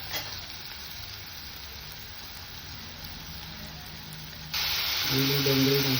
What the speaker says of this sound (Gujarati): બરાબર આદુ મરચાં લસણ થઈ જાય એટલે લીલી ડુંગળી નાખીએ.